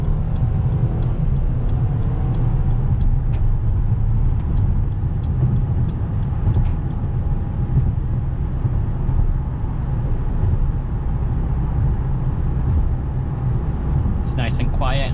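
Inside a 2021 Mercedes GLA on an evening drive, a steady low road rumble and wind hiss fill the cabin, with faint ticking early on and a brief higher tone near the end.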